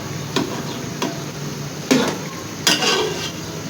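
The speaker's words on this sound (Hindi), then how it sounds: "हल्के हाथों से अब हिलाना है" Beef karahi being stirred gently in a pot, with a few soft spoon scrapes and knocks against the metal spaced a second or so apart over a quiet background.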